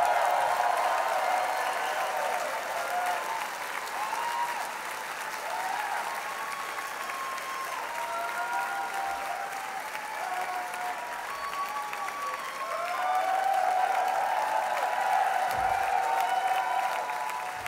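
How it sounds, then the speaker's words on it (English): Concert crowd at Koko applauding a band, a sustained wash of clapping and cheering that holds steady and swells near the end, with faint voices mixed in. "Can we get the hugest round of applause for them?"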